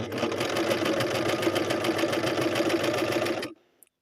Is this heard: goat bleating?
no